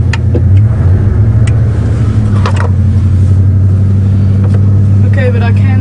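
A Cadillac hearse's engine runs at a steady, loud low drone with a constant rumbling hum, recorded nearby, while people talk faintly over it.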